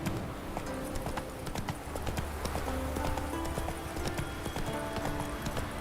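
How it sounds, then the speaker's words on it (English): Horse hooves galloping in the video game The Witcher 3: Wild Hunt, a fast, steady clip-clop rhythm, close and continuous, with a brief whinny and game background sounds underneath. "Whoa there, Roach."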